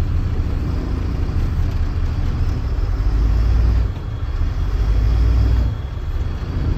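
A tractor-trailer truck's engine idles with the transmission in drive and the brakes engaged, giving a steady low rumble that dips briefly twice, with no talking over it.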